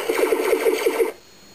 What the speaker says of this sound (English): You just hear the lasers and there's no explosion afterward.